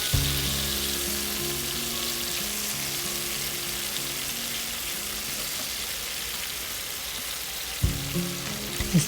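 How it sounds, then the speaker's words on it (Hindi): Beef pieces fry in a pan toward crispness for an Urdu stir-fried beef and mushroom dish, a steady close sizzle with occasional stirring clatters near the end. "क्रिस्पी होने तक बस उसको फ्राई कर लें"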